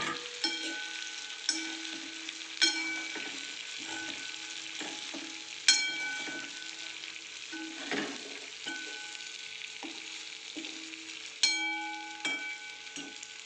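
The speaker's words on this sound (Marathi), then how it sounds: "आपण आपले सोया चंक्स त्याच्यामध्ये टाकून देऊ आणि व्यवस्थित गोल्डन फ्राय" Soya chunks fry in hot oil in a kadhai, with an even crackling sizzle throughout and a series of sharp clinks and scrapes as a spoon stirs them at irregular intervals.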